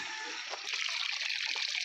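Water pours steadily into a bucket at a village farm, a continuous close rushing splash that grows slightly fuller partway through, with no talking.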